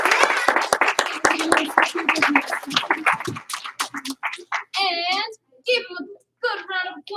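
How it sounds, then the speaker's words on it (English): An audience applauds a student receiving an award at a school ceremony. A burst of many hands clapping fills the first few seconds over mixed voices, then fades as an adult speaks alone. "Good round of applause."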